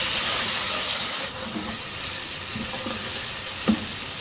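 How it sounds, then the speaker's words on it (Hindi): Tomato, a chicken stock cube and whole green chilies fry in a pan, giving a steady close sizzle with a brighter hiss early on and a few soft stirring knocks. "1-2 मिनट इसको फ्राई करेंगे चीज़ों को"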